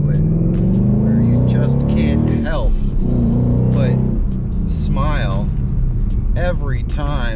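A 2016 Mustang GT engine revs and accelerates with a deep, rumbling roar, pitch climbing in waves as it pulls hard; a voice talks over it.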